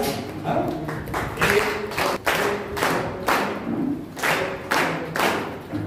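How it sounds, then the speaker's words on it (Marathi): Audience clapping at a Marathi public lecture marking the Phule and Ambedkar birth anniversaries, several loud bursts of applause rising and fading in quick succession, with no talk over them. "त्यांच्या कार्याला आपण 3 टाळ्या वाजून चालत करूया"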